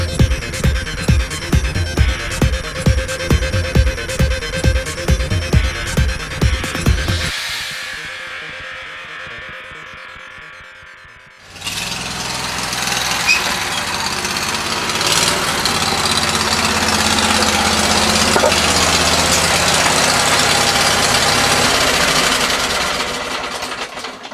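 A Suburban Commando project truck engine chugs rhythmically at idle, fades briefly, then swells into a loud, steady rumbling roar as the truck drives into the shop. No one speaks.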